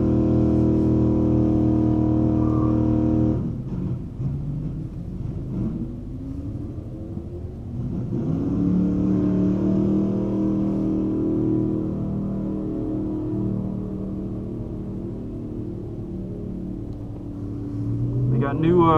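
A Dodge Charger locked in all-wheel drive with traction control off idles at a drag strip, then launches with a deep, loud engine rumble that climbs through the revs, up close and alone.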